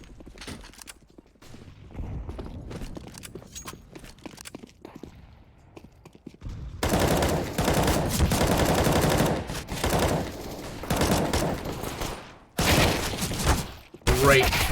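Rapid gunfire erupts in a competitive CS:GO match on the Mirage map, Space Soldiers against Kinguin at an EU Minor, with sparse shots at first and then dense, sharp bursts of rifle fire under faint commentary.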